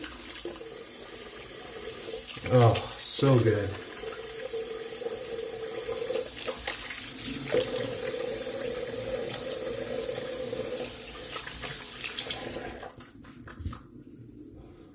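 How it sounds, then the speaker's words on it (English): Cold tap water runs steadily at moderate volume for a rinse after shaving, with a brief spoken remark near the start, then the flow cuts off abruptly near the end. "I'm going to go ahead and do a cold water rinse."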